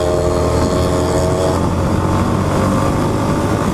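A two-stroke Yamaha RD or DT motorcycle engine runs steadily nearby, a loud, buzzy, continuous drone with no clear revving.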